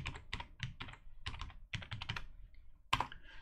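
Fingers tap quickly on a computer keyboard while naming a folder in Excel, a close, crisp run of keystrokes in short bursts, ending on a firmer key press.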